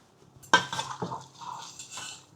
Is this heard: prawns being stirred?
yes